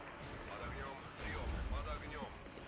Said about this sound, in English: we've got enough for a rocket strike. I'm going to call that in right away.